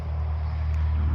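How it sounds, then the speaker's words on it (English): Road traffic passing behind someone outdoors, a brief steady low rumble of vehicles with no talk over it. "Oh, I apologize for the road traffic behind me."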